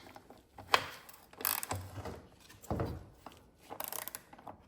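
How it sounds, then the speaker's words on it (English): A socket wrench is tightened on an NP246 transfer case bolt during assembly of a 2002 Avalanche, giving faint, irregular ratcheting clicks and metallic clunks in a few separate bursts. "And then we torque that to 13 foot-pounds. It's a 23 millimeter socket."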